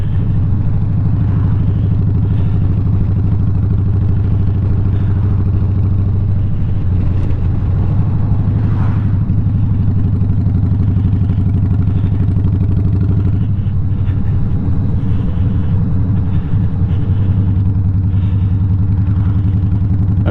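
A 1984 Harley-Davidson Softail engine with new cams runs steadily at idle nearby, a deep continuous throbbing rumble with slight clatter, alone without voices throughout.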